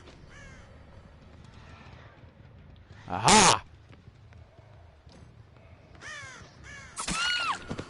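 Crows cawing in the Dead by Daylight video game, a couple of bright harsh calls near the end following a short burst of noise, with game sounds and a brief spoken exclamation around them.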